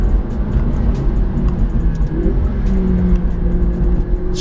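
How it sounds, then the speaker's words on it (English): A McLaren 650S sports car climbs a volcano road above the clouds, with a McLaren 570 following close behind. The engine drones loud and steady throughout with no talking, and its pitch rises and falls slightly as the car works up the slope. "Chasing the sun in the McLaren 650S above the clouds on a volcano with a 570 right behind me."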